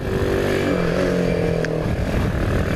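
A Kuba Dragon 50 motorcycle engine fitted with a new exhaust drones close by, its pitch sliding down and then holding as the revs change, with a steady buzzing rasp and no talking.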